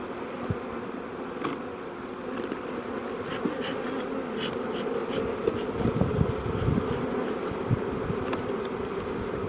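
A dense, steady buzzing of many honey bees swarming close by around an open hive, continuous throughout with no voices.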